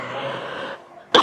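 A short, sharp cough from a woman living with lupus comes right at the end, alone and close after a stretch of low voice-like sound.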